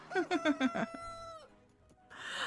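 Minecraft chickens clucking in a game, a quick run of four or five bright, close clucks followed by a longer drawn-out call that fades out.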